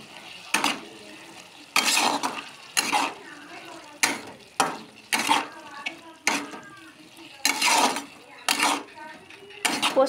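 Aloo posto, boiled potatoes with ground poppy seed paste, being stirred in a pan, with repeated loud scraping strokes of a utensil against the metal in irregular bursts and brief pauses between them.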